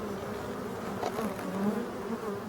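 Honeybees forage on flowering ivy in mid-October in hedged countryside, with bumblebees also about, giving a soft, continuous buzzing hum close by with slight swells as insects move.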